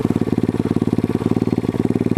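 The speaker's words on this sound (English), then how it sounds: "this is the 125cc engine." A small 125cc engine on a Venom X22 motorcycle runs steadily at idle, loud and close, with a fast even pulsing thump throughout.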